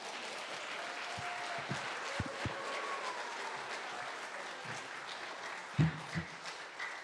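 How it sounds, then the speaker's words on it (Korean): An audience applauding at the end of a Korean Advent lecture on the Gospel of Mark, a continuous wash of clapping with a few louder knocks and thumps scattered through it. "네, 다시 한번 큰 박수 부탁드립니다."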